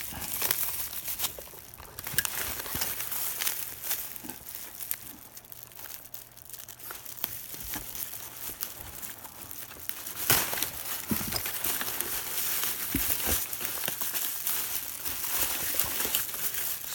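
Crinkling and tearing of plastic packaging as a motorcycle clutch spring kit is opened, steady rustling and crunching close by for the whole stretch, with no talking.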